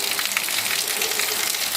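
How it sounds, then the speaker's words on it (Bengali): Rain pours steadily on a monsoon morning in a village, a dense, even hiss of falling drops with no gaps, heard alone without voices. "দেখো আজ কেমন বৃষ্টি পড়ছে"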